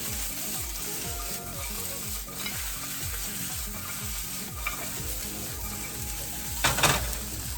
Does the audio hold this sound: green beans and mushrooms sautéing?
yes